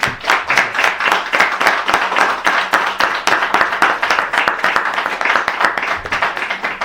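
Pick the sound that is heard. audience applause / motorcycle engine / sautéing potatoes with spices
audience applause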